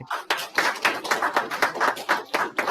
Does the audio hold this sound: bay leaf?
no